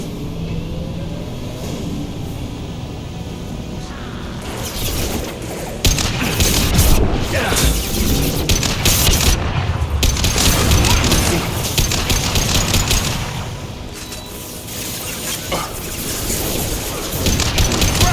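Gunfire and explosions in the video game Mass Effect 2, with bursts of rapid shots and booming blasts that build to a loud dense stretch mid-way, mixed with game voices.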